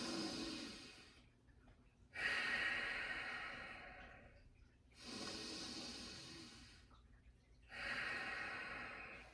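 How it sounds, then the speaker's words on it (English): Deep nasal breathing during a standing reset exercise, with air drawn low into the body: three long hissing breaths through the nose, each separated by a short quiet pause, close and fairly soft. "inhale deep, pause, exhale, pause, tongue in the roof of the mouth, breathing through the nose only"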